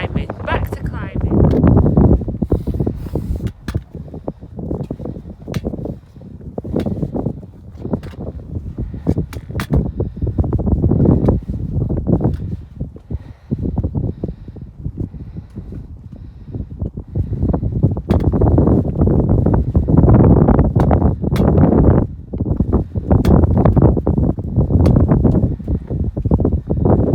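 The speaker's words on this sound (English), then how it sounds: "The sun is out, but so is the wind." Strong wind on the Helvellyn mountain path in the Lake District buffets the microphone in heavy, roaring gusts that rise and fall throughout, loud and close.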